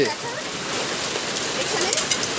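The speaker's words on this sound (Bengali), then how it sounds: "এখন বরফ পড়ছে, প্রচুর বরফ পড়ছে, বৃষ্টি হচ্ছে" Heavy rain mixed with hail pours down in a dense, continuous hiss and patter, loud and close, with no break.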